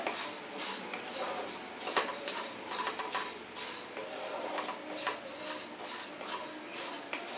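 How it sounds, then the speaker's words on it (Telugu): Coriander seeds and cumin dry-roasting in a pan, heard as faint, close scraping and rattling of seeds and utensil against metal in a loose, irregular rhythm. "ధనియాలు చెరిసగం వేగిన తర్వాత అందులోనే జీలకర్ర కూడా వేసేద్దాం"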